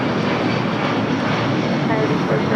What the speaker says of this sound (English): 1263 taking off to Atlanta on a 757-200.